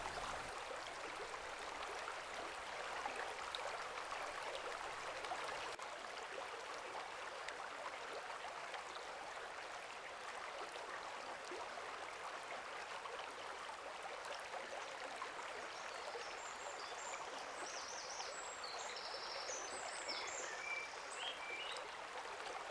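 A flowing river where dippers feed rushes as a steady, faint broadband murmur throughout, with a few faint bird calls briefly rising above the water late on.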